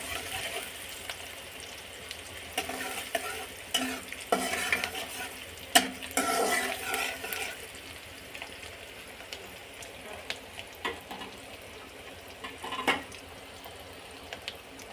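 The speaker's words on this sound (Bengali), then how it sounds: "পেঁয়াজগুলো হালকা বাদামি রঙের করে নিতে হবে ভেজে।" Onions fry in oil in a pan for a duck curry, a continuous crackling sizzle with intermittent louder stirring scrapes and clatters, close and fairly quiet, with no voices.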